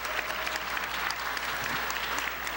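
Sustained, lively applause from the audience at a spelling bee event, continuous close clapping from many hands with no speech over it.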